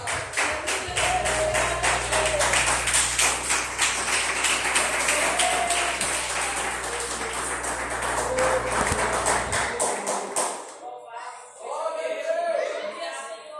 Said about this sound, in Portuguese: Exalta o Senhor com palmas bem altas